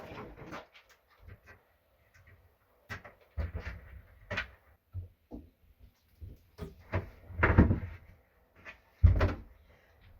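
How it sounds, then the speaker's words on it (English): A bathroom cabinet door is removed for contact paper, giving a string of separate knocks, clicks and wooden thumps with quiet pauses between them, close by. "So, step one, remove the door."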